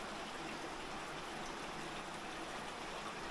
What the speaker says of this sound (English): there's water coming out right here. So I guess this is the outlet.